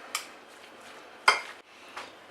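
Kale salad tossed with sunflower seed Caesar dressing and white pepper in a bowl, giving a few scattered clinks and scrapes of utensils against the dish, with one sharper clatter in the middle, close and fairly quiet.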